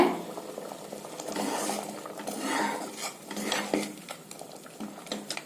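A ladle scrapes and clinks against a pot of simmering sprouted green gram curry, soft irregular stirring sounds at moderate distance.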